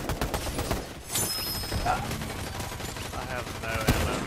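Rapid gunfire crackles in a video game, bursts of shots layered over one another amid busy game noise and raised voices.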